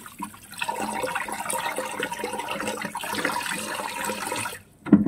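Meat being washed under running water, a continuous splashing stream for several seconds before it briefly cuts off, with no talking.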